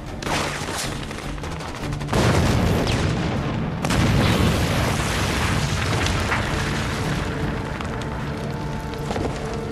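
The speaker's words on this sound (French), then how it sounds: "Grenade!" A grenade explosion in a war film, heavy booming blasts amid continuous gunfire and battle din, loud and dense throughout with a sharp surge of impact near the start.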